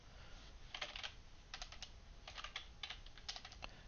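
Quiet bursts of typing on a computer keyboard, quick irregular keystrokes in short clusters, close but faint with no voice.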